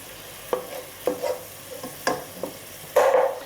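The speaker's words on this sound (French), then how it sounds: "les oignons qui sont en train de frémir dans l'huile d'olive" Onions sizzling in olive oil in a pan, a soft background crackle broken by several distinct stirring scrapes and a louder hiss-and-clatter burst toward the end.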